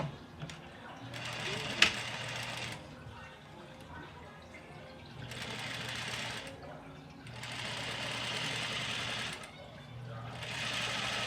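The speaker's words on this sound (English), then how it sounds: "now I'm going to top stitch this all the way around just to attach my lining to my outer layer of fabric" A sewing machine top stitches around a dress, joining the lining to the outer fabric. It runs in several steady bursts separated by short pauses, close and fairly loud, with a brief sharp click early on and a low hum underneath.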